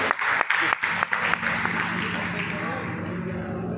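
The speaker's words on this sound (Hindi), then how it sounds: "एक बार ताली हो जाए भाई साहब" An audience at an STA token business meeting in Bharatpur, Rajasthan, breaks into applause. Sharp, uneven claps at first settle into a steady wash of clapping, with a voice audible underneath.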